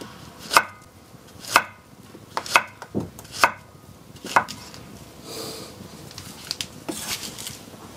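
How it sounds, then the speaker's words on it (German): A knife chops fruit into pieces on a cutting board while making German muesli: five or six sharp, evenly spaced knocks, close and distinct, then softer scattered taps with no talking. "Also längs halbieren. Und dann in Stücke schneiden."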